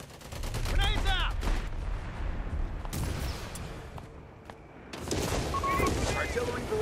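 Artillery barrage in the Company of Heroes 3 Monte Cassino Italy campaign: continuous rumbling explosions and gunfire under battle chatter and voices, with a brief lull before the booms swell again.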